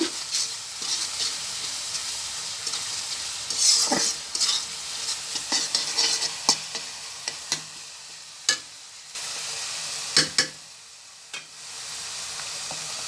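Spice masala of cumin powder and salt is stirred in a pan for a tomato fish curry, with a low sizzle and a series of distinct spoon scrapes and taps against the pan, close and clear.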